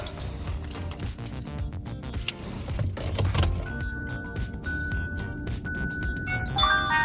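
Car keys jangle and clink close by inside a car while a dash cam is set up, a steady bright metallic rattle over a low vehicle hum, with no talking.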